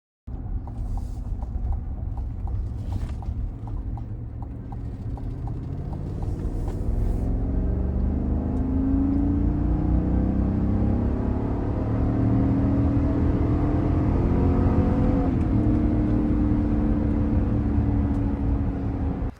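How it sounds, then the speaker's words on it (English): A 2024 GMC Yukon Denali Ultimate full-size SUV accelerates hard, its engine rumble swelling and climbing in pitch through the run, heard from inside the cabin with no talk. "Let's go ahead and see what an acceleration test looks like."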